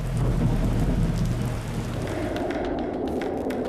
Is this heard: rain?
yes